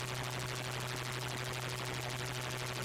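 A cannon in the Valis II game on PC-98 fires at maximum power as a dense, continuous rapid-fire roar with a steady low electronic drone beneath, loud and unbroken for the whole stretch.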